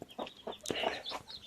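Medak breed chickens cluck in a quick, uneven series of short calls, close by and fairly soft, with no talk over them.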